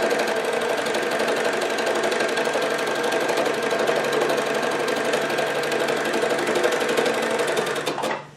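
A needle felting machine punches steadily into merino wool fabric, a loud, close, continuous rapid mechanical chatter that runs evenly before winding down at the very end.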